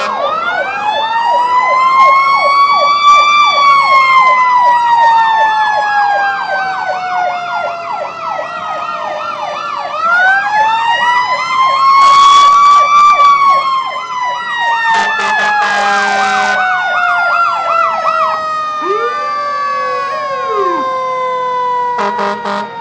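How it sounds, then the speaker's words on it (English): A fire truck siren wails loud and close as the truck passes during a St. Patrick's Day parade in Midtown Atlanta, its tone sweeping up and down repeatedly with a few sharp horn-like bursts mixed in. "Awesome to see the fire truck going through"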